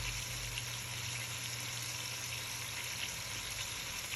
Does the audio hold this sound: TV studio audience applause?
no